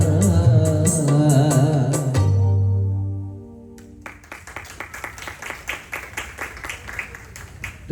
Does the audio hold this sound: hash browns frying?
no